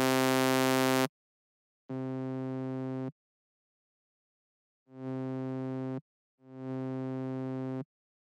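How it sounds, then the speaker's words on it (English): Synthesizer pad notes with much of the high frequencies cut play alone in separate phrases with silences between, the later ones swelling in gradually with a soft, slow attack. "I added a pad, just basically took out a lot of the high frequencies"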